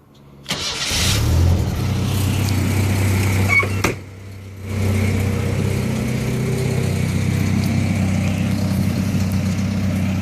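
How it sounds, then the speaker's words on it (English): A pickup truck engine cranks and starts, rumbling loudly, cuts briefly, then restarts into a steady, deep idle close by while parked. "I'm going to show you how loud my truck actually is"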